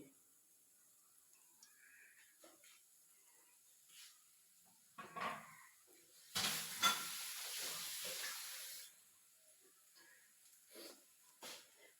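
Sardines and crushed spices cooking in a Kerala curry pot, a soft sizzle and stirring swelling into a louder burst of frying midway before settling back to quiet scraping and clinks.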